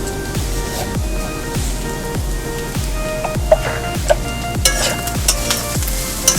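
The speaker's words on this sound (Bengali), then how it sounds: "এরকম মিডিয়াম আঁচে নেড়ে আমি ভাজা করে নেব" Bottle gourd peel stir-frying in a pan over medium heat with a scattering of poppy seeds, a steady sizzle broken by regular scraping strokes of a spatula about once a second, close and without talk.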